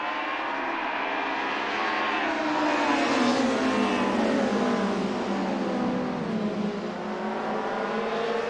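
A pack of DTM touring cars, including a Mercedes-Benz 190E Evo2, roars off the line at the start of a racing game event at Brands Hatch, a continuous loud blend of engines rising and swelling together.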